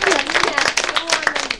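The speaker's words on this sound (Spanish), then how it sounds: "Un aplauso para ellos." Audience at a school choir event applauding the teachers, a short burst of brisk clapping heard close, with a voice speaking over it.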